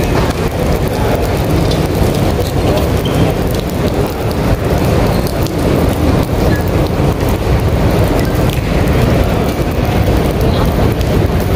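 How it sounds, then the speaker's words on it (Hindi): Heavy rain pours into the open courtyard of a mosque in Madinah, Saudi Arabia, a loud, dense and continuous downpour with no voices. "ये खुला सैन है, ये बारिश हो रही है सऊदीया में,"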